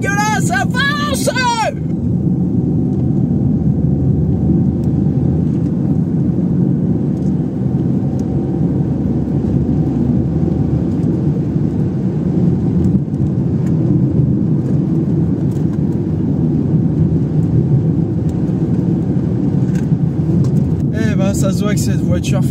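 Peugeot 2008 PureTech engine droning steadily under acceleration while driving, a constant cabin hum and road rumble throughout, with brief voices at the start and end.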